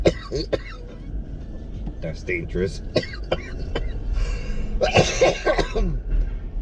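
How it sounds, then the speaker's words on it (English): A man gives a few sharp coughs and clears his throat from acid reflux while talking, with steady vehicle rumble in the background. "Or you can catch me coughing like I am right now"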